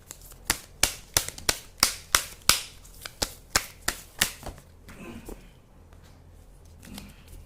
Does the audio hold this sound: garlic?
no